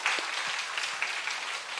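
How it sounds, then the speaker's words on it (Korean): A church congregation claps for retiring members during a Sunday service, a short burst of dense, fairly soft applause with scattered distinct claps. "앞으로 우리 교회가 그 그루터기가 되라고 우리 한 박수로"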